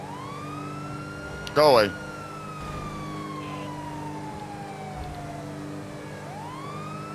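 Police car siren in GTA 5 Online wails steadily in a slow rising and falling sweep, loud and continuous with a steady engine hum beneath, and a short burst of talk near the start.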